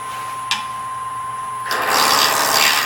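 A turning tool cuts an acrylic pen blank spinning on a lathe, a bright rasping scrape that starts up loudly partway through after a quiet hum and a single tap, then holds steady.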